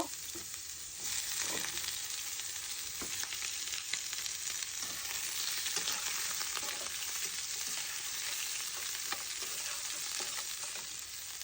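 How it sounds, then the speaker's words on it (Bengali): Duck meat curry with fried potatoes cooks in a pan, a steady, loud sizzle and frying crackle that continues throughout, close and without talk. "তিনটা আলু ভেজে নিয়ে মাংসের সঙ্গে দিব।"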